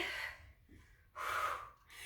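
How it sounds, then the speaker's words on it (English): Deep breathing during an abdominal workout: a long forceful exhale, a short pause, then another strong airy breath, close to the microphone with no speech. "Remember, keep breathing deeply."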